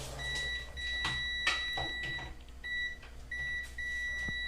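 A multimeter in continuity mode gives short and longer beeps while probing a Lenovo IdeaPad 330 laptop board with a processor fault, the tones repeating in an irregular rhythm over a steady low hum, with no talk.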